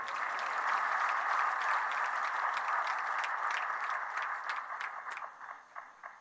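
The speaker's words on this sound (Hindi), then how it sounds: "बजाओ ताली जोर से।" An audience at a Panchkula event celebrating a BJP municipal election win claps steadily, then the applause thins into scattered claps and fades out near the end.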